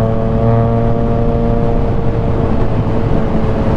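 A Triumph Trident 660 with a Firetong full exhaust cruises along a road, its three-cylinder engine a loud, steady, close drone with a constant tone and wind rush behind it.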